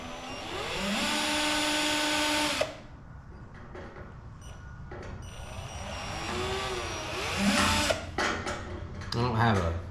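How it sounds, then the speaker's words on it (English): A power drill whines at steady speed, stops, then spins up again in short uneven runs, close and fairly quiet, drilling a pilot hole with a small bit during rear suspension work on a 1987 Dodge D100. "I'm doing a pilot hole with a smaller one to make it easier to drill."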